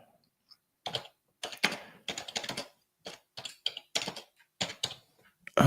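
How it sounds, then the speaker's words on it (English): Keys clatter on a computer keyboard in short irregular bursts of typing, close and fairly quiet, with brief pauses between flurries and no talking. "Let me type something."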